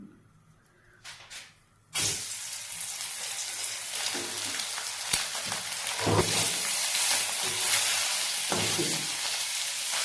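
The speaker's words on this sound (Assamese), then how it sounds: "এইটো ফ্ৰাই কৰিম" Eggs rubbed with salt and turmeric fry in hot mustard oil for an egg curry. After a quiet start, a loud, steady sizzle bursts in and continues evenly, with a few soft crackles and pops.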